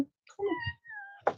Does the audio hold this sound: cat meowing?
yes